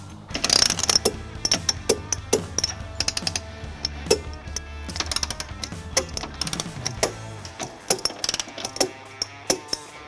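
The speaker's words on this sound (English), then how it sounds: "Last, we'll tighten the carriage bolts using an 11/16 socket." A ratchet with an 11/16 socket tightening carriage bolts on a trailer hitch under a 2022 Toyota Sienna: rapid metallic clicking in quick runs, close and clear, with a low hum underneath.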